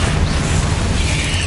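A spell burst in Hogwarts Legacy: the Incendio fire spell rumbles as a loud, continuous blast of deep booming roar with crackling hiss, filling the whole moment without voices.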